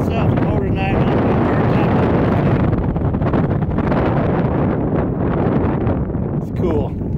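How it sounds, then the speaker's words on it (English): Strong gusting wind buffeting the microphone at an outdoor RC flying field, a loud continuous roar throughout, with faint speech in the background. "It's so windy that Prop's turning by itself."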